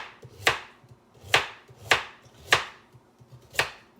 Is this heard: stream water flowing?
no